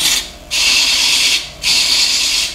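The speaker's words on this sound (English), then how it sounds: "I'm just going to hit it with some dry sandpaper just on the edges" Dry sandpaper rasps against the edges of a wooden cryptex puzzle box in two long, steady strokes with a short pause between, close and loud.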